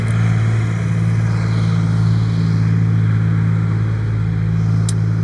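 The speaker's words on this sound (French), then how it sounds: "juste au moment où le tracteur passe" A tractor drives past a river fishing spot, a steady loud low engine drone with constant rumble filling the whole stretch, no talk.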